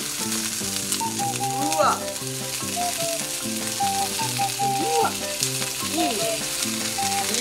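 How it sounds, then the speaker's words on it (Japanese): Loud, steady sizzling of meat frying in a pan, crackling continuously throughout with a brief exclamation from a voice near the start. "とうとう焼くよ。 めっちゃいい音。 肉からどんどん出てくるからな。"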